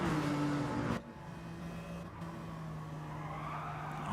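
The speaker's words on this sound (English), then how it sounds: "There's a big gaggle of BMWs chasing him down this hill." A pack of BMW saloon race cars at Kirkistown circuit rushes downhill in a close group, engines droning steadily with a sharp cut in pitch as one passes, the roar holding loud and continuous.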